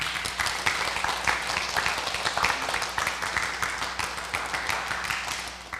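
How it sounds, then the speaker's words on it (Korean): Audience applause at a church praise concert in a Seoul home church, steady fairly soft clapping from a modest crowd that continues evenly for several seconds with no voices over it. "큰 박수로 모시겠습니다"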